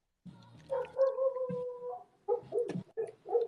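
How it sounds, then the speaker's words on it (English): Dogs whimpering and vocalizing to each other close by, drawn-out whines and short yelps and grumbles in a broken sequence over a quiet room. "Our dogs are talking to each other, Casey."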